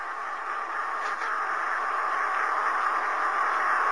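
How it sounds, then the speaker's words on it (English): Hydrogen gas escaping from the hose nozzle of a Series 9 Auto-Fill Hydro-Gen generator makes a steady, continuous hiss that holds at an even level for the whole stretch, with no voices. "that's the gas, the actual sound of the gas escaping from the end of the nozzle on the hose"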